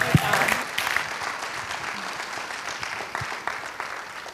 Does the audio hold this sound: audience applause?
yes